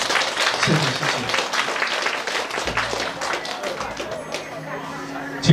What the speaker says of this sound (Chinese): 掌声欢送我的父母回到座位